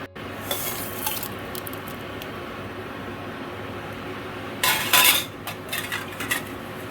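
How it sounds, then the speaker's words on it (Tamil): Steady hissing sizzle of spices frying in hot oil as tempering for sambar, with a louder crackling burst midway and light utensil clinks against a pan. "இது வந்து நம்ம எண்ணெயில் கொட்டி போட்டுடலாம், தாளிச்சிடலாம்."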